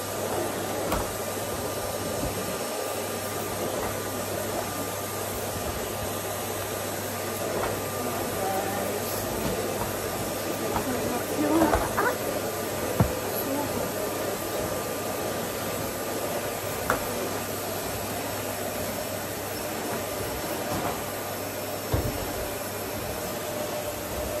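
A vacuum cleaner drones continuously at a steady pitch, fairly close, with occasional bumps and clunks breaking through the constant whooshing hiss.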